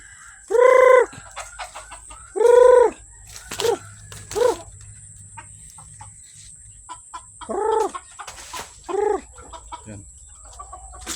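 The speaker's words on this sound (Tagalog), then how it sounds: "yung mga manok natin oh" Several loud, close chicken calls in short bursts, with a rooster's crow among them and quieter clucks between, over a steady background hum.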